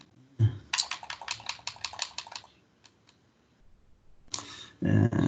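Rapid clicking keystrokes on a computer keyboard, a quick run of close taps followed by a firmer press of the Enter key, then a brief pause before more key clatter resumes.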